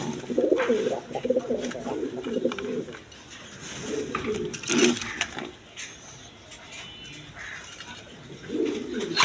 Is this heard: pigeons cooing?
yes